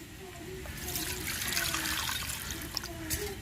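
Water is poured over tamarind in a home kitchen to soak it for a dried-fish curry, a steady close trickling pour that runs for a few seconds with faint background sound.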